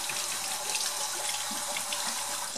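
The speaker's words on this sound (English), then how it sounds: "we'll just give them a little rinse in the sink" Kitchen sink tap running over cut tomatoes being rinsed, a steady close splashing stream of water with no one talking.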